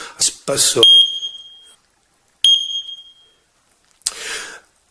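Two shrill electronic test beeps from an X-Sense carbon monoxide alarm, one short and one longer tone with a clear pause between, heard close and loud, followed by a brief rustle; a voice is heard before the first beep.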